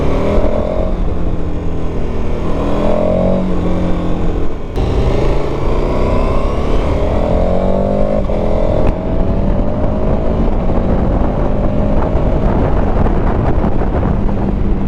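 A 2021 KTM 1290 Super Adventure S being ridden at speed, its engine note droning loud and steady while rising and falling through gear changes, heavily buffeted by wind rush throughout.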